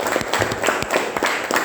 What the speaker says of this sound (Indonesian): Ya betul, tepuk tangan.